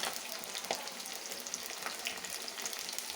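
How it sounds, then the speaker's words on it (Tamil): Shallots, garlic and curry leaves sautéing in a pan, a steady bright hiss of frying oil with a few soft stirring knocks, close and continuous. "வெங்காயம், பூண்டு, கருவேப்பிலை எல்லாம் போட்டு நல்லா பொன்னிறமாக வரும்போது வதக்கிக்கலாம்."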